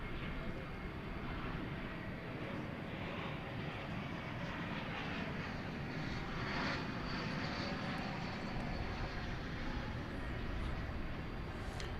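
A nearly new UPS Boeing 767 cargo jet at DFW Airport at night produces a sustained, distant engine roar with a broad rumble and shifting turbine hiss across the whole stretch.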